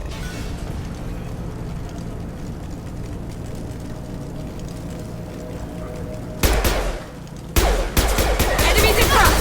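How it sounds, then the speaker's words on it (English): Mass Effect 2 firefight with Blue Suns mercenaries and Vorcha: a steady low battle rumble, then two loud, abrupt bursts of gunfire close by near the end. "Blue Suns and Vorcha shooting anything that moves"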